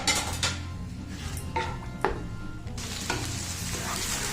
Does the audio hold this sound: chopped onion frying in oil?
yes